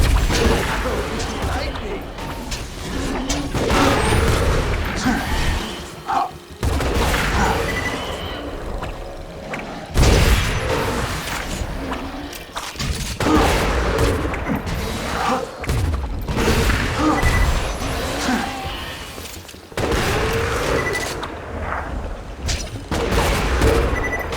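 Grenade launcher explosions in Borderlands 2 in the Caustic Caverns: a series of heavy, booming blasts in rapid bursts over gunfire and clanking game effects, close and loud throughout.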